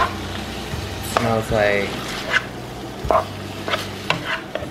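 Food frying in a pan is stirred with scraping, clattering strokes over a soft background sizzle, while a few words are spoken nearby.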